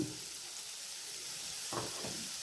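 Green chilies and chopped ginger frying in a pan give a steady, fairly quiet sizzle, with a couple of soft stirring scrapes near the end.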